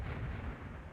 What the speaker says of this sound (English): Napalm is primed and inbound.